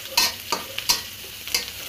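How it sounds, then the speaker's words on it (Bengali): Onion and green chili frying in a wok make a hissing sizzle broken by several quick, scraping stirring strokes in an uneven rhythm, close and fairly loud. "যে একটা কড়াইতে পেঁয়াজ আর কাঁচামরিচ ভেজে নিতেছি।"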